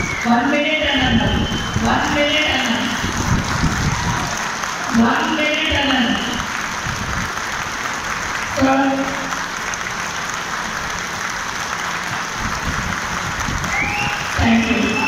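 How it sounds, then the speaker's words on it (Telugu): Continuous clapping from a rally crowd gathered for a candidate, steady and fairly even for the whole stretch, with voices speaking intermittently on top. "ఒక్క నిమిషం చప్పట్లు కొట్టాలి గట్టిగా."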